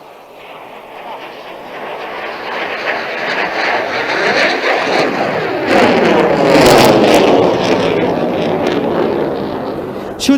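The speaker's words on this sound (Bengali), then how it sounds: "MiG-29টি প্রদর্শন করবে স্লো স্পিড হ্যান্ডলিং ম্যানুভার" A MiG-29 fighter jet flies a slow-speed handling manoeuvre over a parade ground in Dhaka, its broad engine roar building steadily and swelling loudest near the end, continuous and fairly close.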